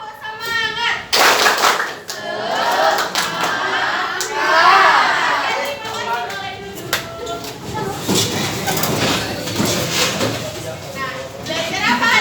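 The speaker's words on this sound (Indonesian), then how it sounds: "Tepuk satu. Tepuk dua. Tepuk semangat." A classroom of children clapping together in a rhythmic chant pattern during a sociology lesson, bursts of claps and young voices, with a teacher talking in between.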